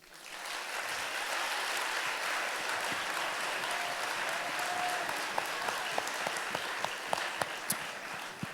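Sustained audience applause at a graduation ceremony for ECS Paris, a dense wash of clapping from a large crowd lasting several seconds, with a few sharper individual claps standing out near the end.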